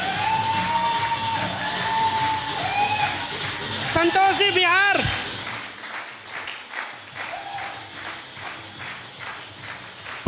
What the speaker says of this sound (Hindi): जोरदार तालियां इनके लिए, जोरदार